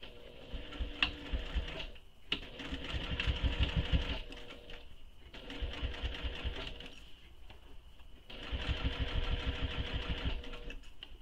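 A sewing machine runs in three steady bursts of fast rhythmic stitching along a clutch bag seam, close and moderately quiet, with short pauses between runs.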